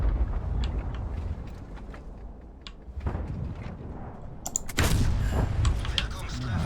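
Tank cannon fire in the World of Tanks video game, with a sharp, loud blast near the five-second mark followed by a rumbling tail, over continuous engine and battle noise.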